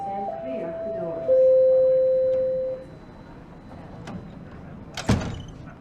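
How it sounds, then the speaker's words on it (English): A Toronto subway Line 1 train at the platform sounds a long steady door-warning chime, then a soft rumble. A sharp clunk follows as the doors shut. A recorded voice speaks near the start. "Please stand clear of the doors."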